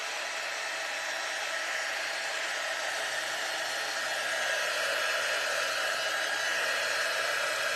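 A hair dryer blows steadily to dry heavy paint on a wooden spindle cross, a continuous close, loud whooshing hiss with no talking over it.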